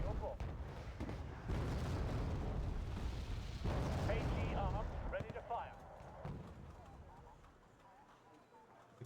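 Mortar fire and explosions in a video game, repeated heavy booms and rumbling blasts close together that fade toward the end, with faint talk in places.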